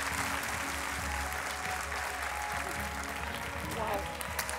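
A television studio audience at Portugal's Got Talent applauds a guest, a continuous, moderate wash of clapping over a low hum of the room, with a voice briefly heard among it.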